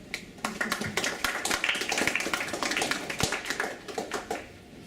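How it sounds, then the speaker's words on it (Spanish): A round-table audience at an event on indigenous jurisdiction in Peru claps for a speaker, with distinct individual claps close by forming a sparse, uneven round of applause that thins out toward the end. "para quien pido por favor un fuerte aplauso"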